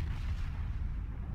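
Heavy naval gunfire from the USS North Carolina battleship in the World of Warships video game, a dense, sustained low boom and rumble filling the whole moment with no talking.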